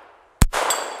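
A single sharp shot from a Smith & Wesson Model 41 pistol fired at a small target, one close loud crack followed by a short ringing tail.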